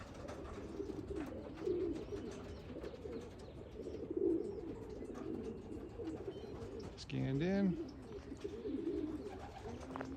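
Racing pigeons cooing in their loft during an old bird race, soft repeated coos close by, with someone talking over them and a brief electronic scan beep.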